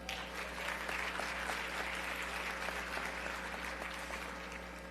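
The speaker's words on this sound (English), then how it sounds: "Round of applause, please." Applause from the audience at an annual Dr. Martin Luther King Jr. breakfast, a faint, distant wash of clapping over a steady low hum in a large room, easing off toward the end.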